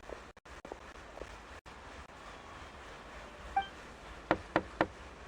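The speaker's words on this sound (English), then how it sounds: "Okay, I'll go knock on the door." Knocking on a door in the video game Roses and Musket: a quiet ambient bed with a few faint taps, then three sharp, evenly spaced knocks near the end, close and alone without speech.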